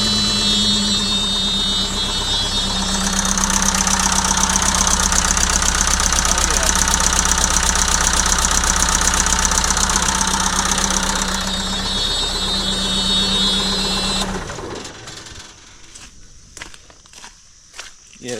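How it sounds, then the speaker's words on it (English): A JCB 180T skid steer's diesel engine with a leaking turbo housing runs steadily and loudly up close, then cuts off and falls quiet near the end. "Let's start it up again and see if I can feel some sort of exhaust leak there."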